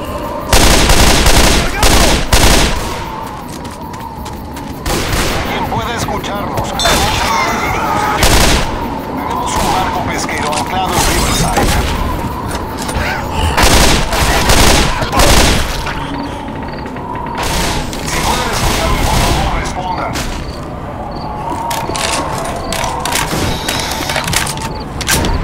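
Heavy gunfire in the Left 4 Dead 2 video game, dense repeated shots and bursts like automatic weapons and booms running almost continuously, loud and close, with occasional talk underneath.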